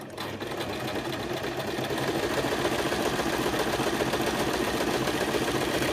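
A sewing machine runs continuously while stitching a sensory maze fabric cuff, a steady close mechanical whirr and rapid needle clatter, with back stitching near the end of the seam.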